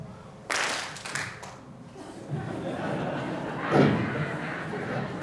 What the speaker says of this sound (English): You're going to clap all with me together.